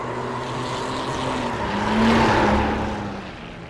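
Race car engine in the iRacing sim, a GT-class machine leaving the pits on cold tires, droning steadily and swelling in pitch and loudness near the middle before easing slightly, alone with no talking.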